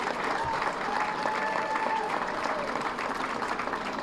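Audience at a county commissioner election victory event applauding steadily, a continuous wash of clapping and crowd noise held at moderate distance throughout.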